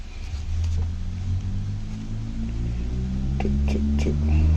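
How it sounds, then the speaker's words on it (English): Daytime traffic outside is heard from indoors as a steady low rumble of passing cars that swells slightly, with a few small clicks and knocks from nearby handling. "you're gonna hear a lot of cars going by"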